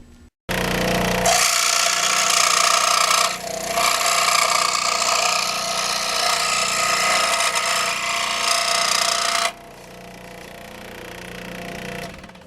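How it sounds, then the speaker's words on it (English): A small bandsaw cuts out a piece of fairing for a Suzuki RG250 Walter Wolf Special restoration. Its loud, steady whining cut runs for about eight seconds, briefly dipping once, then drops to a quieter idle. "go over to the saw, the little bandsaw, and saw it out."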